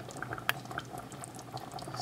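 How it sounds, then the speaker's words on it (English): Tomato sauce simmering in a pot gives a continuous soft bubbling hiss with a few sharper pops, one distinct near the start, heard close up with no voices. "This is a nice simmer on tomato sauce."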